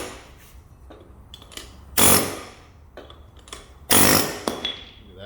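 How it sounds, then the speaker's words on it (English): Power tool used to remove car couplers on a model train, giving two loud, short bursts of whirring, each about a second long and a couple of seconds apart, with quieter clicks and handling noises between them. "As for me, it's much easier to use a power tool."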